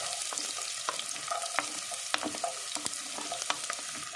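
Chopped garlic fries in a pan, a steady close sizzle broken by frequent sharp pops and crackles of stirring, with no voices.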